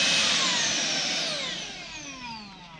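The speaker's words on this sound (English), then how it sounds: "it activates the full power of this vacuum" A Xiaomi Jimmy JV51 handheld vacuum cleaner runs at full power, a loud, close, steady whine and rush of air that slowly sinks in pitch and fades slightly, with no voices.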